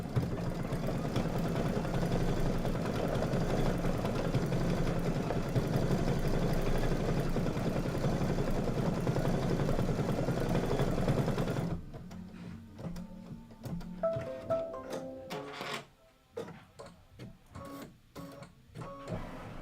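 An embroidery sewing machine stitches a straw fill pattern, with a steady loud mechanical whir and rapid needle rhythm for about twelve seconds, then stops, leaving scattered clicks and knocks.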